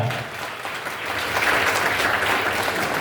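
An audience claps enthusiastically for performers at a district-level Dombari folk dance competition, a sustained wash of applause that swells and holds steady for several seconds.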